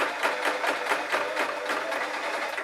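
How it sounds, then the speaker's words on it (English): Sewing machine punching through six layers of fleece with a quick, regular clunking rhythm, each stroke a distinct thump, close and moderately loud with no talking. "my machine's going to go clunk, clunk, clunk, clunk, clunk, because it's sewing 6 layers of fleece"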